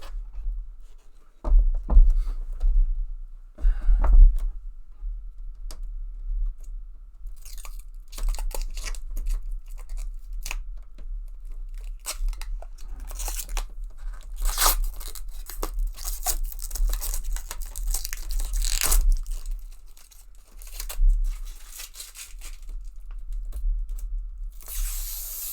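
Protective plastic film peeled off a Dell SE2417HGX 24-inch monitor screen, long crackling and crinkling tears in several close bursts with short pauses between, no talking.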